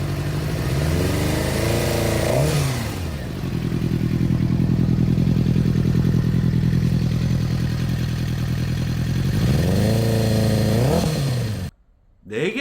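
A cheap four-cylinder motorcycle engine with one dead cylinder runs at an uneven, lumpy idle close by, its throttle blipped into short revs at the start and again near the end before it briefly cuts out.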